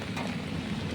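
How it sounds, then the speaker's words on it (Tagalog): Heavy rain pouring down steadily at night, a constant close wash of drops with a low rumbling undertone, no voices heard. "Sobrang ulan mga kabisnes."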